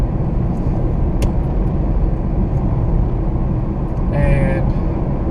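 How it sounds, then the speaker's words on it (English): Steady road rumble fills a car cabin on the drive home from school, a constant low hum with brief higher whines, close and even throughout. "I'm driving home from school."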